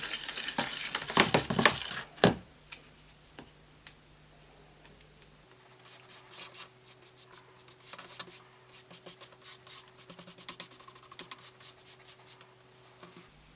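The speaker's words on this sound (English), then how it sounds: "Should remember to keep stirring this mixture while I'm doing this" A pastel paper texture mixture is stirred by hand, giving quiet, intermittent gritty scrapes and small ticking clicks, with a brief louder rustle near the start.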